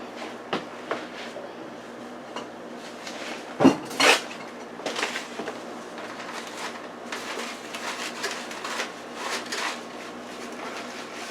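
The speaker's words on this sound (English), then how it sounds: "Let me pick up the stuff that I dropped." Dropped kitchen utensils and dishes are gathered up from the floor, producing scattered clinks and clatters of metal and crockery, with two sharper knocks near the middle, close by in a quiet kitchen with no talking.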